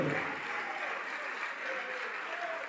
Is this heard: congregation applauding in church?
yes